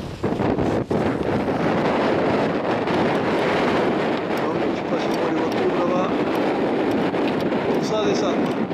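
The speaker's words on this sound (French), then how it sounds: "Je ne sais pas si on m'entend à cause du vent" Strong wind buffets the microphone on a hillside hiking path descending toward a parking area, a loud continuous roar filling the whole stretch, with a voice faintly under it.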